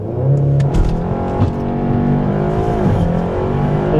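A tuned Stage 1 car boosted to 350 hp accelerates hard, the engine revving up through climbing tones with a gear change and tire noise, loud and close with no voices.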